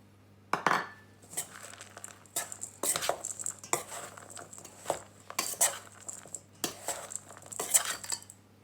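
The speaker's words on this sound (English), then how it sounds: "Into that I'm going to add my nuts." Chopped nuts and ground almonds tipped into a bowl of Christmas cake fruit mix and stirred with a utensil, giving a series of soft clinks, scrapes and patters against the bowl, close and fairly quiet with no talking.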